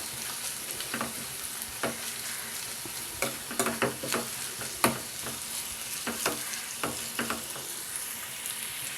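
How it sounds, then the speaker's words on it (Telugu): Freshly pounded ginger-garlic paste fries with browned onions in a curry pan. A continuous, moderate sizzle runs throughout, broken by irregular scraping stir strokes. No speech. "ఉల్లిపాయలు బాగా వేగాయి. ఇప్పుడే దంచిన అల్లం వెల్లుల్లి పేస్ట్."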